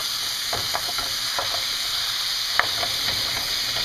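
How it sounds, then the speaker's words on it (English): Ground beef for enchiladas browns in a hot pan with a constant loud hiss and sizzle, punctuated by small crackles and light stirring clicks. "So I just put in some beef. I'm going to brown this."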